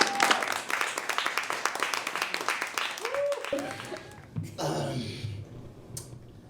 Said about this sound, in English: Keep the clapping going for your man, your host, Jeff Hyde.